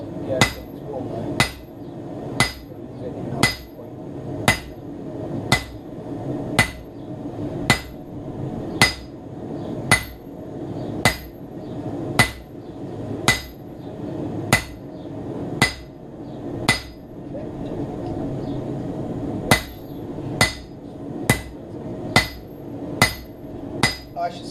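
Hammer striking hot steel on an anvil while forging a dagger from a PC printer shaft, with sharp metallic blows in a steady rhythm roughly every second, a short pause midway, and faint talk underneath.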